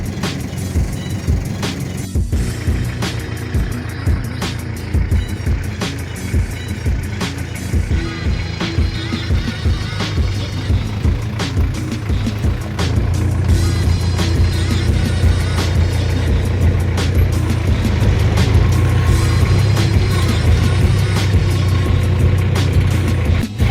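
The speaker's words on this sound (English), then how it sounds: "First, let me start this car and move it to the garage." A 1993 Daihatsu Taft engine runs steady and close in a parking lot, a continuous low rumble that grows slightly louder and rougher partway through, with no talk.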